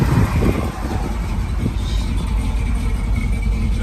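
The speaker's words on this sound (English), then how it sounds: "Just a nice running truck." A 1973 Chevy Camaro V8 with a Edelbrock carburetor idles steadily at a car show in Essex, Vermont, its low rumble close and continuous with a slight surge in the opening moments.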